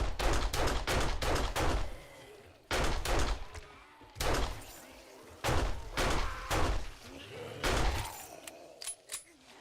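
Gunfire in the survival game 7 Days to Die, loud rapid bursts of shots in several clusters with short gaps between them.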